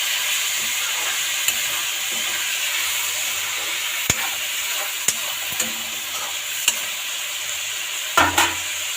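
White chickpea and potato curry being stirred in a pan over steady frying sizzle, with sharp spoon taps and scrapes against the metal at irregular intervals, close and fairly loud, no talking.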